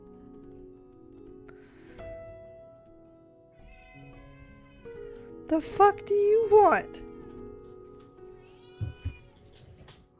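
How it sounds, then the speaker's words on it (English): A house cat meows several times in a short, wavering burst mid-clip, fairly close, amid a streamer's talk and quiet game sound during a Final Fantasy XIV livestream. "That's the cat."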